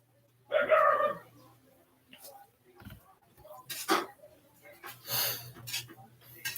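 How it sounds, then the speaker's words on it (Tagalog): A pet dog barks in the background of a home live stream, one bark near the start and more muffled bursts later, with a person talking over it. "Napakaingay ng ating aso."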